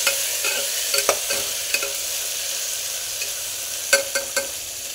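Tomatoes fry and sizzle in a pan for mutton biryani, with a steady hiss broken by scattered scraping knocks of a spoon stirring, close and clear, with no talking.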